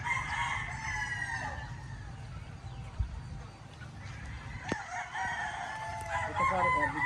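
Gamefowl stag roosters crowing at a range, several loud cock-a-doodle-doo calls over a noisy yard with other bird chatter, a brief knock, and faint background talk.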